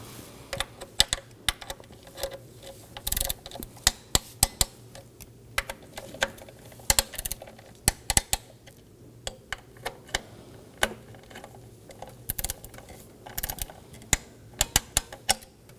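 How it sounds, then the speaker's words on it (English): A torque wrench tightens solenoid bracket bolts to 62 inch-pounds on a 2015-2023 Nissan Maxima, giving scattered sharp ratchet clicks and ticks in irregular bursts over a quiet background, with no talk. "Now we're going to torque all 3 of these down to 62 inch-pounds."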